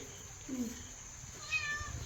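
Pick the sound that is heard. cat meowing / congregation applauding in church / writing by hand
cat meowing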